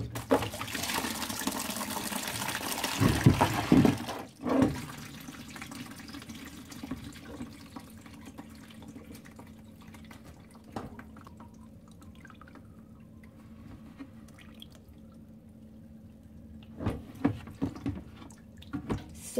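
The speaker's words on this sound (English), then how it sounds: "Sudsy water." Soapy water drains out of a front-loading washing machine during a repair, a louder rushing gush at first that drops to a faint trickle with scattered drips and splashes.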